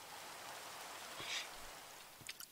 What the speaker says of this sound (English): it rains often.